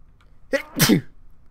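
One sharp sneeze close up, a quick intake then a burst, in an otherwise quiet moment.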